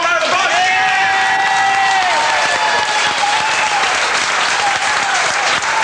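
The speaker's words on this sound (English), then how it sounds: "Give her a nice warm round of applause." Warm round of applause from a restaurant audience on a Saint Patrick's night, loud sustained clapping with a few whistles and cheers riding over it throughout.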